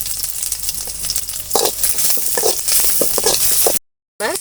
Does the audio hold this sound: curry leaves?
yes